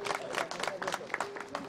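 Audience at a kirtan during a week-long harinam gathering, clapping in a dense patter of many hands mixed with crowd murmur and some voices, brief and moderately loud.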